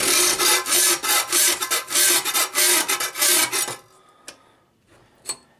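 A hand file is pushed across sheet metal near a marked line in about a dozen loud, rhythmic rasping strokes close by. It then stops, leaving near quiet broken by a couple of light taps.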